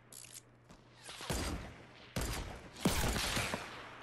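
Gunfire in a sniper-only video game match, with a few sharp shot bursts and mechanical clatter in the middle of the clip, moderately loud against a quiet game background.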